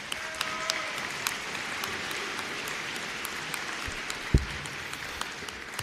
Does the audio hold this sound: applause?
yes